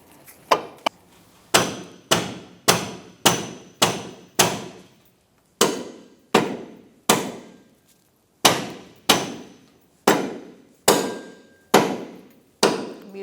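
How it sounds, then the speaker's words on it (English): A rubber mallet strikes the lower control arm of a 2004-2009 Mazda 3 in about fifteen sharp, ringing blows, mostly in quick steady runs with a couple of short pauses, loud and close, with no talking. "I'm using a rubber mallet, and I'm hitting the arm, not the ball joint."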